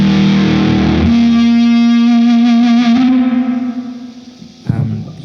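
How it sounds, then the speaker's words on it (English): A reverb with a built-in dynamics engine sustains a loud, heavily processed tone that drops away as it fades, then a hard hit near the end briefly swells the tail again. "which has a dynamics engine built in, and so the reverb ducks away as you hit it hard"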